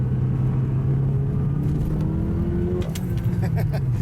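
A Porsche 944 Turbo accelerates hard, its engine droning in a steady rising rumble heard from inside the car, with a gear change near the end and faint clicks over the top.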